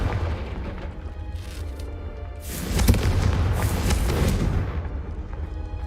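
A Confringo fire spell explodes in Hogwarts Legacy, a loud booming blast that swells and rumbles for several seconds over a steady low background, with no talking.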